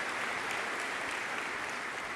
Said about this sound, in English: Please, a round of applause for Greg Mark of Mark Ford